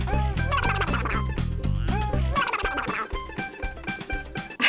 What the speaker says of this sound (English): I just love the silly noises these ducks make when you catch them